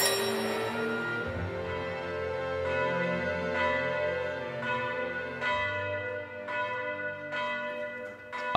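A large tower clock bell rings repeatedly with long, overlapping resonant tones, each strike booming and fading slowly into the next.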